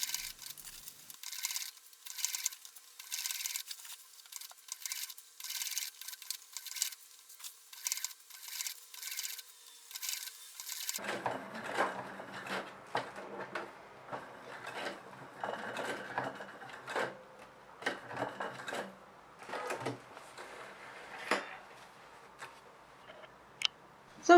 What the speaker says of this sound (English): sew all around the waistband from the inside to hold everything in place